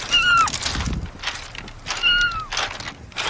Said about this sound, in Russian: Там кто-то мяукает.